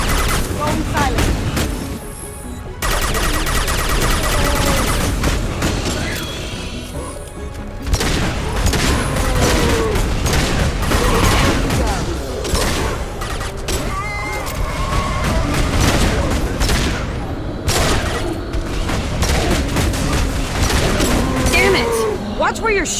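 Sustained firefight in Mass Effect 2, dense automatic weapon fire and booming impacts rattling continuously at close range, with voices calling out at times over the shooting.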